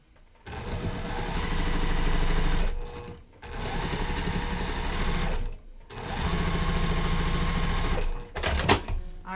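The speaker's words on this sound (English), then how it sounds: "I'm going to sew this down." A sewing machine stitches down a quilt block in three long, steady runs broken by brief pauses, loud and close, with a quick clatter of handling at the end.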